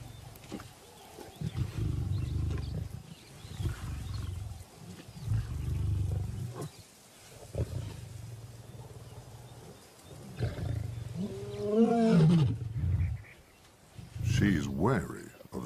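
African lions let out deep, rumbling roars in several long bouts, loud and fairly close, with a voice talking over them.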